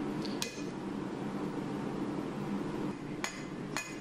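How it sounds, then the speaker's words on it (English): A hammer strikes the hot steel tang of a hunting knife on an anvil, a few sharp ringing blows spaced apart over a low background hum. "I'm just forging the very butt of the tang there, get a little bit of curve to it"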